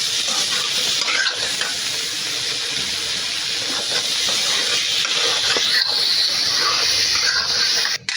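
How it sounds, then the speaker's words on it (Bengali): Potatoes fry in a pan with a loud, steady sizzle while a utensil stirs and scrapes through them, the hiss swelling slightly as they are turned, close and uninterrupted. "সময় নিয়ে আমি আলুটা ভেজে নেব"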